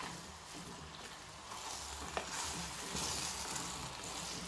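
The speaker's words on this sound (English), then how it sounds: "Then, after you put salt, we mix all again." Tomato rice stirred in a pan after salting, producing a soft continuous frying sizzle with faint scraping and one sharp knock of the utensil partway through, without speech.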